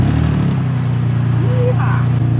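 A car engine, jump-started from a Ugreen PowerRoam 2200 portable power station, runs with a steady low idle hum, loud and close, holding evenly with no pause and a faint voice briefly over it.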